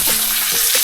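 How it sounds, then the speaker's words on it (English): Yellowfin tuna sears in a hot pan with a loud, steady, close hiss and crackle, brief and without talk. "A good sear on both sides."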